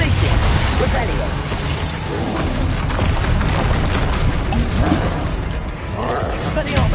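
Spells cast in Hogwarts Legacy, a video game, with a Confringo fire blast among them: dense, continuous booming explosions and crackling magical effects fill the whole stretch at high volume, with a voice faintly mixed underneath.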